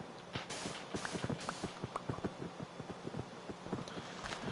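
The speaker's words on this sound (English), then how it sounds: "The footsteps that you're hearing, this is my pigs that I had for getting slime balls." Pigs in Minecraft, kept penned for slime balls, patter with soft, quick footsteps in an irregular, busy rhythm over a constant faint background, with no talking.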